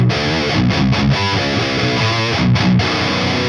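A high-gain distorted electric guitar through a tube amp, heavy modern-metal tone with full low end and scooped mids, playing loud chugging riffs and chords with short muted gaps, no talking.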